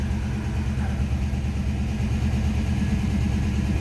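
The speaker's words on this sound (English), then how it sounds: "See how easily that rocket V8 started up." A 1951 Oldsmobile 98 Holiday Coupe with its Rocket V8 idles just after a push-button start, a steady low rumble with a smooth, even beat and no talking.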